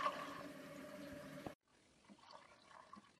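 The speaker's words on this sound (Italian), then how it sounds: "Aggiungiamo abbondante acqua" Plenty of water poured into a large cooking pot holding small tuna for homemade Apulian preserved tuna, a steady close pour that stops abruptly, followed by faint settling trickles.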